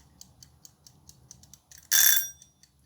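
A Pomodoro-style kitchen timer ticking softly and steadily, then a short loud burst of ringing for about half a second, close and alone without talk.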